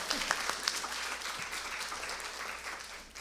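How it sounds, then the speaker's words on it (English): An audience at a homebuyer workshop claps to welcome a presenter, a brisk wash of many hands with a few sharper close claps, steady throughout and free of speech. "Everybody clap for Greg."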